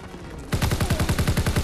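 Rapid automatic gunfire in Call of Duty WW2 bursts in after a brief quiet stretch, a loud, evenly spaced string of about fifteen close shots with no talking.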